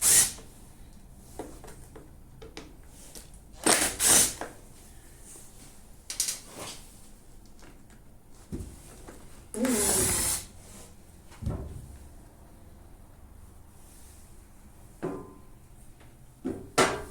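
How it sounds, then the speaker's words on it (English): A power driver buzzes screws out of the cover on a multi-function two-stroke engine in short bursts of whirring, close and loud, separated by quiet gaps with small clicks and handling noises. "I'm just gonna buzz all the screws out and try to take the cover off"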